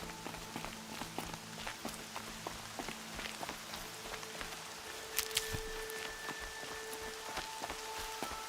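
Rain in the Horizon Zero Dawn video game, falling as a soft, steady patter with scattered sharp drips and light footstep-like taps, moderately quiet throughout.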